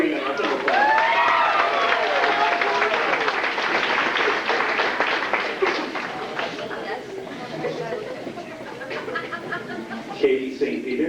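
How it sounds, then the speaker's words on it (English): Audience applause at a 2005 school spring concert rises as a dense wash of clapping mixed with crowd chatter and some laughter, staying loud for several seconds before thinning out, with voices talking through it. "Give Karina a round of applause."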